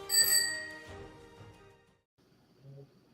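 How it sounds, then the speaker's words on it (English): A bright ringing bell chime, like a bicycle bell, sounds close and clear at the start and decays over about a second, followed by a softer low tone near the end. "ring the bell."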